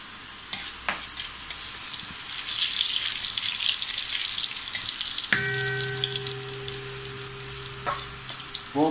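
Tempering spices crackle and sizzle in hot oil, giving a continuous hiss with scattered pops. A few metallic clangs and a sustained tonal ring come through partway in.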